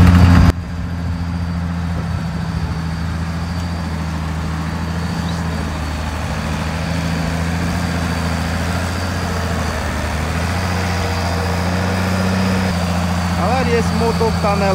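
A Huber Warco motor grader's engine running with a steady low drone and rumble throughout, near and continuous, with someone talking over it.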